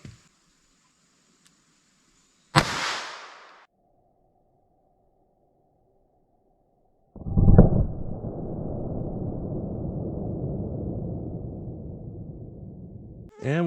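A single sharp .22 gunshot cracks into clear ballistics gel backed by MDF, followed a few seconds later by a louder burst of noisy rushing that fades slowly.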